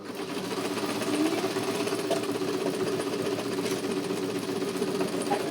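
A sewing machine runs continuously while back-stitching a skirt seam, a close, rapid mechanical chatter with a steady motor drone and no pauses across the whole stretch.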